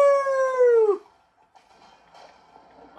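A dog in the video game Minecraft Dungeons lets out a single loud, falling howl-like yelp lasting about a second, followed by quieter game sounds.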